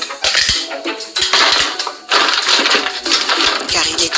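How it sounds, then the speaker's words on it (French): Toy plastic dishes, pots and cutlery from a Splish Splash toy sink and stove set clatter and knock together in rapid, irregular bursts as they are dropped into the toy sink, loud and close. "On va mettre toute la vaisselle"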